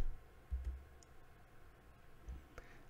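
A few faint, sharp computer mouse clicks tick out at scattered moments over a quiet room background, with no one speaking.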